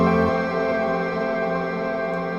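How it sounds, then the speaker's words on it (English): Sample of electric guitars and piano run through a master reverb with very long decay, a dense, washed-out sustained chord that hangs loudly and smears for the whole stretch. "on the master right here, I have a reverb with the decay all the way up"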